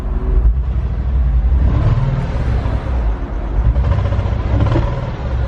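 A mechanically damaged 2002 Porsche 986 Boxster S engine gives a brief light rev over a rough, steady rumbling idle, loud and close, with no talk.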